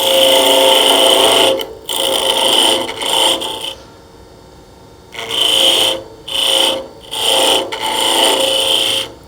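A woodturning gouge rubs its bevel and cuts into a spinning timber trunk on a lathe, shaping a Christmas tree: loud rasping scrapes in several bursts separated by short quiet gaps.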